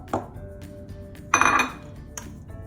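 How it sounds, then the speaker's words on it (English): Diced onions are shaken in a bowl, giving a few short rattling, clinking bursts, one louder shake in the middle, close and alone without talk. "you're just gonna place them into the bowl and maybe give it another good little shake to mix them up"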